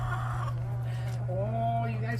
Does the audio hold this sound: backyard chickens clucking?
yes